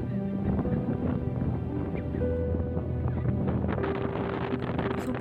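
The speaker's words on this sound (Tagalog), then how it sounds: "Super mahangin ito" Strong wind gusting across an exposed rocky outcrop at Rhino Rock, Hong Kong, a steady, loud rush buffeting the microphone continuously with no pauses.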